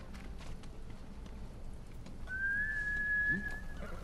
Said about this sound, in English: I don't even know why I whistled